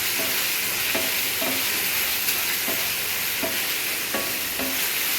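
Onion and tomato for egg bhurji frying in a pan, a steady loud sizzle with repeated scraping and clinking strokes of a spatula stirring.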